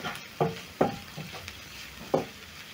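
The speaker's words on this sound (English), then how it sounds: "Cook the onions, garlic and ginger together with the leek until soft." Onions, garlic, ginger and leek cook in a pan with a soft sizzle. A utensil scrapes and stirs in several distinct strokes. The sound is close and fairly quiet, with no voices.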